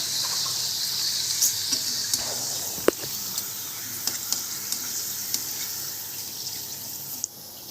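Papad frying in hot oil for masala papad, a steady soft sizzle and crackle with a few sharp pops and clicks, close by and without talk.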